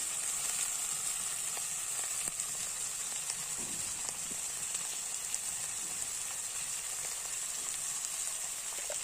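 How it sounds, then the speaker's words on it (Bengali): Turmeric, chili and coriander powder with salt frying in hot oil, a faint, continuous sizzle with light crackling that runs steadily throughout. "ভালো করে মশলাটাকে ভেজে নেবো"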